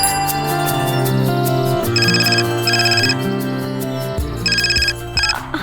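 A telephone rings in a Hindi TV drama scene, repeating electronic ringtone bursts loud and close over a musical background score.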